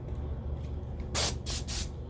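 Three short, sharp bursts of airbrush spray hiss up close, test-sprayed onto a hand, each lasting a fraction of a second, over a low steady background hum.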